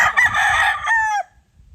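A loud, close gamecock crow, one full cock-a-doodle-doo rising then trailing off, followed by quiet.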